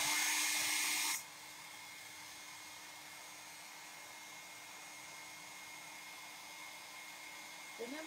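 A hair dryer blowing steadily, loud at first for about a second, then continuing at a lower, constant whooshing hum for the rest of the clip with no talking.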